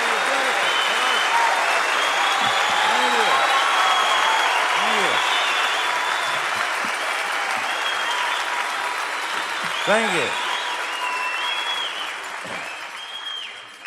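Concert audience at the Grand Ole Opry bursts into loud, sustained applause, broad and close, fading gradually toward the end while someone speaks briefly over it.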